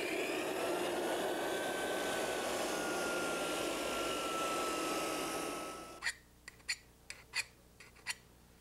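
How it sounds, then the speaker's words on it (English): An edge sander grinds steadily along the wall on a parquet floor, a loud continuous whirring rasp that cuts off partway, leaving a few sharp knocks and clicks. "To really get it as tight as you should to the wall, use an edge sander."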